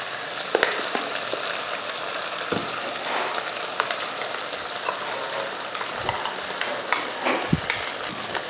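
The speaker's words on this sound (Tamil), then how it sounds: "மசாலாவை சேர்த்துட்டு இதையும் வதக்கி விட்டுருவோம்." Mutton sautéing with ground masala in a hot pan, a crackling sizzle broken by frequent clacks and scrapes of a spoon stirring against the metal.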